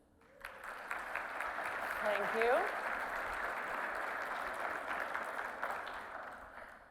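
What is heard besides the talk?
audience applause at keynote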